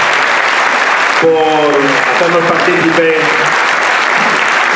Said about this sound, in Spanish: Y este aplauso va por ellas y por ello.